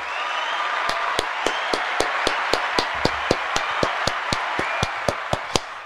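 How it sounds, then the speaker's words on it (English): People clap along during a reaction to a song. Sharp, evenly spaced claps land about three per second in a steady beat over a continuous bed of background music. "Clap for him, man."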